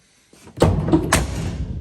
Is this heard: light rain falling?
no